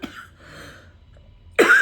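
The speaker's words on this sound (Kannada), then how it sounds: "ಜಾಸ್ತಿ ಮಾತಾಡಿದ್ರೆ ಕೆಮ್ಮು ಬಂದ್ಬಿಡುತ್ತೆ ನನಗೆ." A single sharp cough bursts out loudly near the end, after a stretch of faint breathing and quiet room noise.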